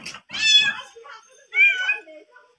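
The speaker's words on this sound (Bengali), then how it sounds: "আর ম্যাও ম্যাও করেই যাচ্ছে" A mother cat meows repeatedly while searching for her kittens, two loud, close, drawn-out cries with a softer sound between them.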